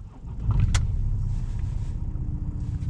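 A car engine rumbles steadily at idle close by, with a brief click near the start; no cranking is clearly heard.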